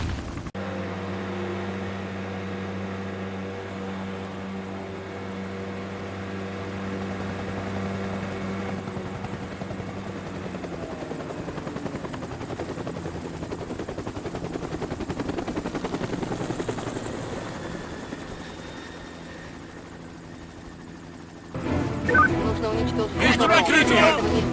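A helicopter flies in a shooter video game, its rotor drone steady and loud for most of the stretch, swelling mid-way and growing harsher near the end, with voices speaking over it.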